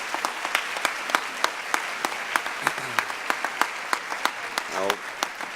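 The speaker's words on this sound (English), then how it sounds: "another round of applause for everybody" Applause from an audience at a school awards ceremony for AP United States History students, a dense steady crowd clapping with a few sharper individual claps standing out and brief voices murmuring underneath.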